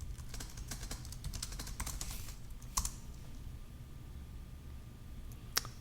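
Code being typed on a computer keyboard, bursts of crisp, close key clicks in an uneven rhythm, then a pause broken by a couple of sharper isolated taps, over low room rumble.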